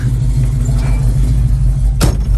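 A 1967 Chevrolet Chevelle's rebuilt engine idles with a steady low rumble, one brief sharp noise standing out near the end.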